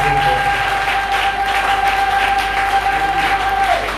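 A church congregation breaks into applause, a dense, steady wash of many hands clapping that fills the room for several seconds, with a sustained organ or keyboard tone beneath.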